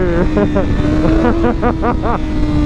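A BMW S1000RR sport motorcycle overtaking: a loud, close engine note climbs in pitch several times in quick succession, rising and falling with the throttle across a few seconds.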